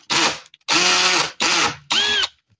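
A power screwdriver unscrewing screws from the PCB board of a Samsung WA10J5710SG washing machine: four close, loud whirring bursts, each lasting about half a second, separated by short pauses, with no talk.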